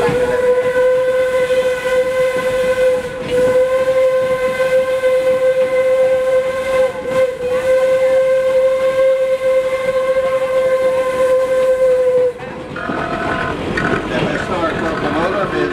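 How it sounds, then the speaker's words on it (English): A steady whistle from an 1897 Baldwin steam locomotive sounds loud and close for about twelve seconds over the rumble of the running train, then cuts off, leaving rolling wheel and chassis noise. "the 1897 Baldwin steam locomotive"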